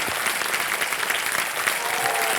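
Steady, dense applause from a TV quiz show studio audience fills the whole stretch, a continuous wash of clapping hands without pause.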